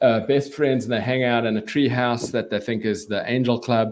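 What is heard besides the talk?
None of the usual background noises is heard.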